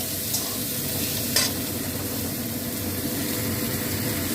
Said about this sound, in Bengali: এই আলুটা আমি দিয়ে দিলাম, আর এর সঙ্গে পেঁয়াজ দিয়ে দিলাম, দিয়ে আমি একসঙ্গে ভেজে নেবো